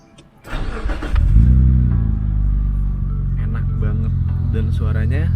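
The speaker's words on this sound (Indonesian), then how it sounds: "Dan suaranya ya emang padat karena 6 silinder 2400 cc kan, dan ini twin turbo juga." A Mitsubishi Galant VR4 with a twin-turbo 2.4-litre six-cylinder engine cranks and fires up close by, settling into a dense, deep, steady idle rumble after a brief starter whirr.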